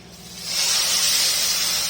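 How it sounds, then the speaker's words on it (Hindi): Steam hisses loudly as saffron syrup is poured into hot desi ghee halwa, a close, sustained rushing hiss that swells within half a second and holds steady. "एकदम से भाप निकलती है।"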